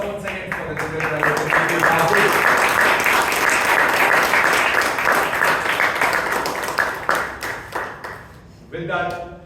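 Audience at a Toastmasters club meeting breaks into sustained applause, loud and full for most of the stretch, thinning to scattered claps before a voice speaks at the end.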